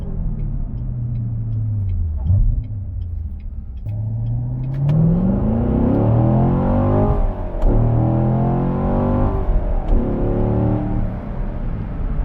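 The V8 of a Corvette C7 Grand Sport drives along hilly roads, loud and close, its deep rumble climbing in pitch through hard accelerations, with shifts between gears and sustained revving.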